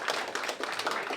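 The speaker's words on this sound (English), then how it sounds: "a round of applause for Viola." Senior center audience clapping after a talk by a ranger, a brief burst of close, fairly loud handclaps from a small group with no voices over it.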